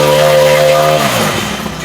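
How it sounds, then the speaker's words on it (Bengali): Small engine of a paddy harvester cutting machine sounds loud and close with a steady, buzzing idle. After about a second it drops and fades into rougher noise. "ধান কাটার মেশিন স্টার্ট রিয়াজ ভাই এক টানে স্টার্ট"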